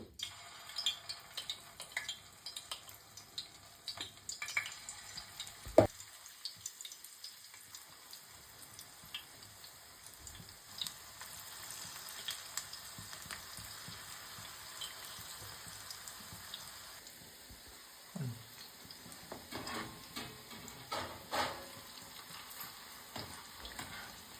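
Small pakoda fritters frying in hot oil, a faint steady sizzle and crackle with scattered pops and occasional stirring clinks, continuous throughout.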